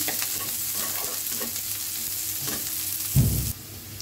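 Onions fry in a pan with a steady, moderately loud sizzling hiss, broken by a few soft stirring scrapes and a brief duller thump near the end.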